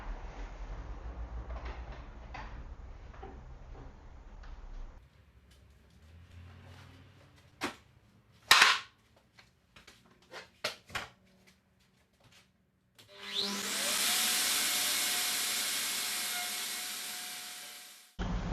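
A router cutting a heart-shaped box from a template: scattered clicks and handling knocks, then the motor spins up into a loud, steady whining roar for the final few seconds.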